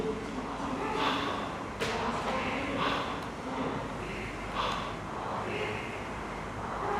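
Steady breathing through a wide-open mouth during an overhead squat mobility exercise: soft, airy inhales and exhales repeat in a slow rhythm, close and fairly quiet.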